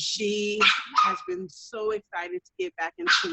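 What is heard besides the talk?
dog barking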